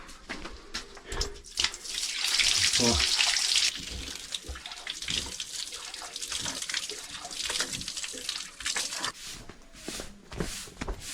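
Water pours and splashes steadily at a village water tank, a continuous rushing flow with occasional knocks and footsteps nearby.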